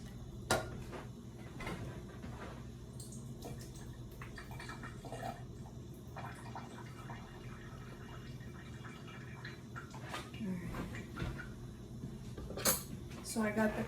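Corn being strained in a pot over a kitchen sink, with running water, metallic pot and utensil clanks and a steady hiss of draining liquid throughout, brief louder clatters near the start and end.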